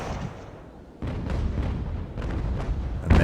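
Ship cannons fire in a sea battle in Ultimate Admiral: Age of Sail, several heavy booming shots close together over a low rumbling background, with a sharp final blast.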